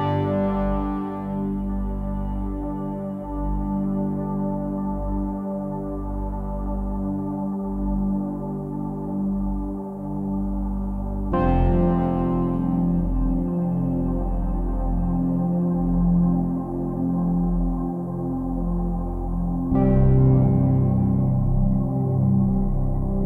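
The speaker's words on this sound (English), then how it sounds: "It's a very nice emotional wave pad sounding" A lush, sustained Hydra synthesizer pad swells in three long phrases, each new chord blooming with echoing repeats and a wide, reverberant tail from Ocean Machine delay and reverb.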